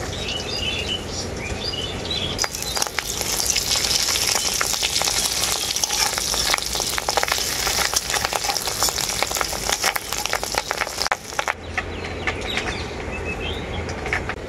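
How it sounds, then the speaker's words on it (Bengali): Fish roe fritters fry in hot mustard oil, crackling and sputtering nearby with rapid popping; the sizzle swells louder in the middle stretch, then settles back to a gentler fry. "মাছের ডিমটা এখন বড়ার মতো করে ভেজে নেব"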